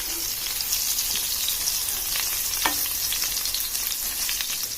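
Brinjal frying on a low-flame tawa with small splashes of water added, giving a steady, close crackling sizzle throughout with a few sharper spits and pops.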